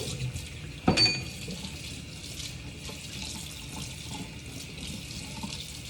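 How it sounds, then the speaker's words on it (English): Tap water runs steadily into a kitchen sink, rinsing used espresso grounds down the drain, a constant soft hiss opening with a brief clatter near the start. "now I'm just washing the espresso beans down the drain"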